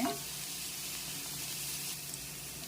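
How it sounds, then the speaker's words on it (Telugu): Radish chutney ingredients frying in a pan until golden: a continuous, fairly even sizzle of hot oil fills the short stretch, close and steady, with no talking. "ఇవన్నీ మిక్స్ చేసుకొని బాగా గోల్డెన్ కలర్ వచ్చేంత వరకు వేయించేద్దాం."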